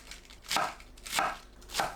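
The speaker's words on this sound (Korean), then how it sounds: "양배추를 5cm에서 7cm 길이로 채 썰어줍니다." A kitchen knife cuts cabbage into thin 5–7 cm strips on a cutting board, with three crisp chops spaced evenly about half a second apart, close and clear.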